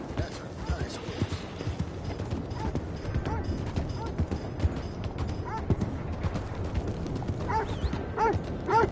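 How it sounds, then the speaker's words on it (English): Horse hooves clip-clop at a steady walking pace in the Red Dead Redemption 2 video game, set among busy ambient game sounds with brief voices passing by. "Ooh, that's a nice horse."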